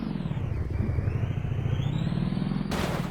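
A motorcycle engine rumbles steadily and close while riding, a continuous low throb with a brief shift in tone near the end, no talking over it.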